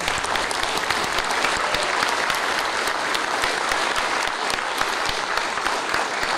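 A large audience at a World War II submarine veterans memorial ceremony applauds the band, with dense, sustained clapping that stays loud and even throughout without fading.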